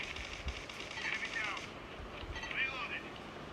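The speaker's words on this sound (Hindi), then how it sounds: "लेकिन तभी साइड से फायरिंग आती है तो मैं चलने लगता हूँ फायरिंग की तरफ।" Gunfire crackles from off to one side in a shooter video game played with 9mm weapons, with bursts around the middle and end of the clip over a steady layer of game noise.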